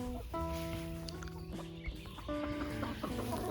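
A Sebright rooster crowing close by, a loud drawn-out call with clear tonal notes rising above farmyard background noise, with a few clucks around it.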